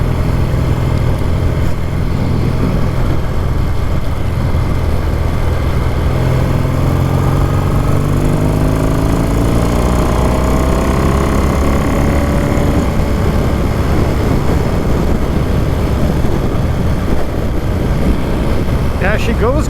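A classic Triumph Bonneville T140V motorcycle engine runs steadily while riding, its pitch climbing and falling through revs over road noise and wind.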